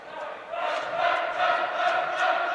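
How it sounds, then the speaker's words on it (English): A packed gym crowd at a high school boys basketball game roars and cheers in a sustained, swelling wash of voices, loud and dense with no single speaker standing out. "So nice crowd here tonight"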